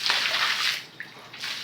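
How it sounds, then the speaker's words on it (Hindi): Water is poured and splashed over a mat being washed by hand in a home courtyard, a close, hissing gush that briefly eases before pouring again. "अब दोनों को आंगन में डाल के और ऐसे पानी डाल डाल के इसको धोऊंगी"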